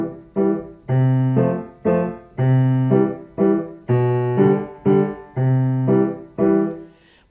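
Piano waltz accompaniment in an oom-pa-pa pattern, a low bass note followed by two lighter chords per bar, repeating steadily in about eight clear, loud bars with no talking.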